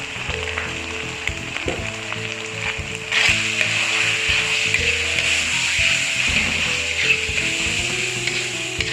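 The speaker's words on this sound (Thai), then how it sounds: "ทำการผัดคลุกเคล้าให้เข้ากัน" Chicken stir-frying with sugar, seasoning sauce, oyster sauce and dark soy sauce in a hot pan, a steady hiss of sizzling with utensil scraping, growing louder after a few seconds.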